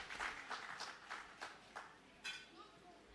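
Outdoor audience at a handing-over ceremony applauding school performers, scattered claps in uneven bursts, fairly faint and thinning out toward the end.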